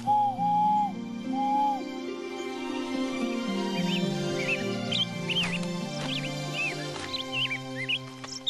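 Bright warbling nightingale song in a cartoon, with whistled trills and chirps rising over a low, steady hum of background music, repeating in short phrases.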